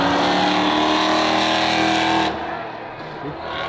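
A Mercedes-AMG 63 Black Series roars loudly at a race event, a sustained close engine howl that cuts off abruptly, leaving a quieter background rumble.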